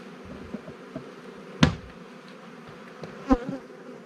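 A steady low insect hum of honey bees on hive frames fills the clip, with a couple of sharp knocks and clicks breaking through near the middle and end.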